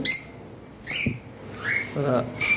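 White-face cockatiels give a few short, rising whistled calls and squawks at close range in a bird shop, spaced out with brief pauses and no talking.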